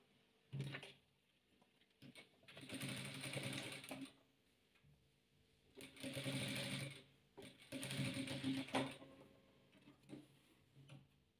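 A sewing machine stitches fabric patchwork corners in three or four short bursts of fast, rattling whirring, separated by quiet pauses and soft clicks, close and moderately loud.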